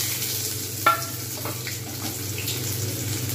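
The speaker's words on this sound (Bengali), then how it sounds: "এবার আমি এর মধ্যে দিয়ে দেবো, এটা ভালোভাবে ভাজা হয়ে গেছে, পেঁয়াজ।" Fried onion tipped into a hot pan for a chickpea and potato curry, a brief clatter followed by a steady, fairly loud sizzle and hiss that carries on under the cooking.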